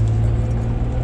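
A steady road rumble from cars passing close by, a continuous low engine drone holding through the whole moment with no talking.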